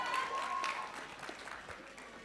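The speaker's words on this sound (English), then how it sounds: "Another round of applause for girl power." Applause from a crowd at the 18th graduation ceremony of the International University of Management, a steady, dense patter of many hands clapping that fades slightly toward the end, with a faint sustained tone in the hall.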